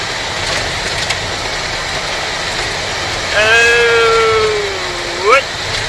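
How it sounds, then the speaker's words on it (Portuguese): A truck engine drones steadily behind a moving vehicle on a road with an emergency escape area, the noise swelling midway as a loud horn-like tone sounds briefly and climbs at the end. "Uma carreta aqui atrás."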